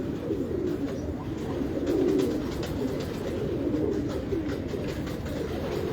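Pigeons coo in a loft, a continuous layered murmur of many birds close by with a soft fluttering texture and faint rustles, steady throughout with no speech.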